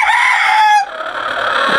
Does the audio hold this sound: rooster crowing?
yes